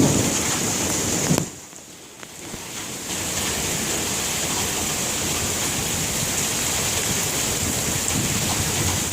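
Thunder rumbles through a steady rainstorm, with heavy rain hissing continuously, briefly dipping before the downpour resumes at full strength; no one speaks.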